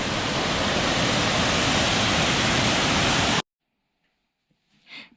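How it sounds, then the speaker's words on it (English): Loud, dense roar of a waterfall in a rainforest national park, steady and close for over three seconds before cutting off abruptly to near silence, followed by a faint brief sound near the end. "This waterfall."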